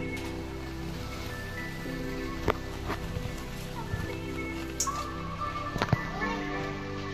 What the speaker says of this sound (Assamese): বৰষুণ লাগিছে।